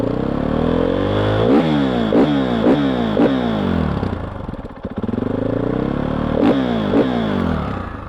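Supermoto motorcycle with its stock exhaust revving loudly and close by, with repeated throttle blips rising and falling, a brief dip toward idle midway, then more revs.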